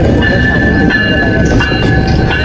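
A train locomotive stands at a station on the Dhaka to Nilphamari line, giving a loud, steady idling rumble with a constant mechanical whine and faint clanks over it.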